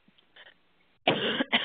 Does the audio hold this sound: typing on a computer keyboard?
no